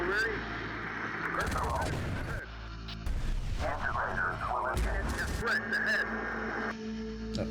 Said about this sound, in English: That's a mortar round